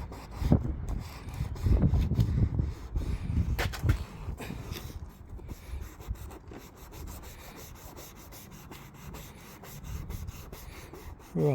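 Scouring pad rubbing polish into the hull of a Valiant DF490 RIB, a steady close scrubbing and rasping in repeated strokes that fades to softer rubbing toward the end, with no talking.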